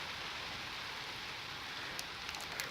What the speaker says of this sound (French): Par contre, il pleut fort dehors.